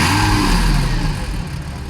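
Lamborghini Gallardo Spyder with a 5-litre V10 engine revving, a loud, close, continuous throaty engine roar that swells and holds steady through the brief moment, with no talking.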